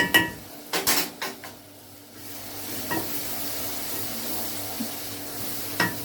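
A spoon stirs tomato paste in a cooking pot, scraping and clinking against the metal a few times over a soft, steady sizzle, close and alone without talk.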